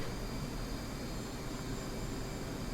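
An F/A-18C Hornet jet engine in the DCS World flight simulator, with power slightly raised during a landing approach, gives a steady, unbroken roar that stays loud and even throughout the short stretch.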